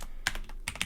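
Quick burst of typing on a computer keyboard while entering a username, a few sharp close key clicks in a short irregular run.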